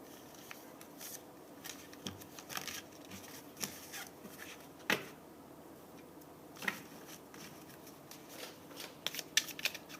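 Tarot cards are shuffled and turned over, soft close riffles and flicks with scattered sharp snaps at irregular intervals over a quiet background, no voices.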